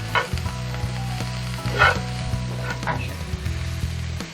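Cabbage sizzling in a pan while being stirred, a steady close fry with intermittent scraping and clinking strokes, alone without talk.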